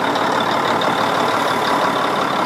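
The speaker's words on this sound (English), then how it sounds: "starter motor" A Mack truck engine runs after being cranked by its air starter motor, a loud, steady close-up drone with a dense, even rumble throughout.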